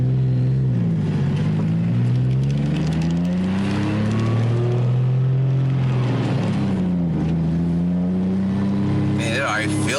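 A turbocharged BMW E36 328i sedan's engine and exhaust rise and fall through several rev climbs, a loud, close, throaty drone with a brief sharp sound at the very end.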